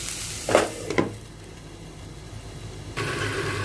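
Onions fry in a pan for paneer masala gravy over a medium flame. A steady soft sizzle runs throughout, broken early by a couple of clanking stirs, and the hiss grows louder near the end.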